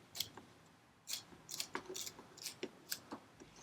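Short-bladed, spring-loaded scissors snip through upholstery fabric on a French chair, giving a series of quiet, crisp cuts in an irregular rhythm after a brief pause, close by in a quiet room.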